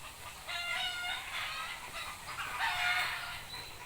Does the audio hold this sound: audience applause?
no